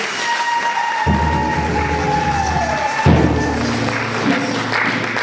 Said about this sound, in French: On acclame pour ces dieux-là